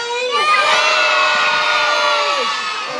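A loud crowd of children at a zoo sea lion show shouts a word together in unison, a sustained cheering yell that stays strong for a few seconds.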